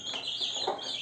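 Native breed chickens and chicks make a brief burst of soft clucking and high chick peeps, close and continuous for about a second.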